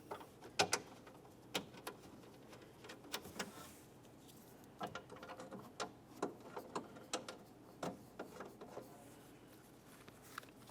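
A ratchet clicks in short, quiet bursts while tightening the two mounting bolts of a rear power window regulator on a 2006-2011 Honda Civic, with small mechanical ticks between strokes and no voices.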